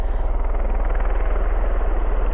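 Helicopter rotors turning at RAF Mildenhall, a steady pulsing chop with a low thrum that holds fairly loud and constant throughout, with no talk over it.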